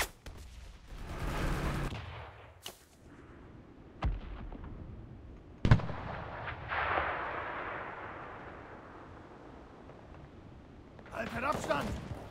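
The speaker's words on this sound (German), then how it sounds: "Artillerie !" Artillery fire in the World War II shooter Enlisted: several heavy booming blasts at irregular intervals, some distant and rumbling, mixed with battlefield noise and voices.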